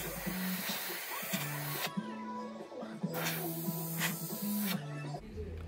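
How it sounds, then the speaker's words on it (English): An airbrush sprays paint in a harsher pass while scales and lettering are being painted, a steady close hiss in bursts, with a voice talking over it throughout. "So just exact same airbrushing as before,"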